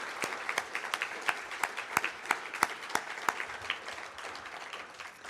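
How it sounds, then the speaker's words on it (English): Crowd applause at the Junior Achievement Maine Business Hall of Fame North 2022 ceremony: sharp, distinct claps rising to louder peaks, then thinning out toward the end. "how about one more big round of applause for all of our incredible inductees here tonight"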